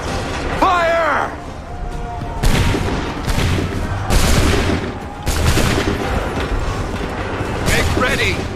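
Musket volleys crash out in Assassin's Creed 3 Remastered, several loud rolling bursts of massed gunfire one after another, with shouted commands among them.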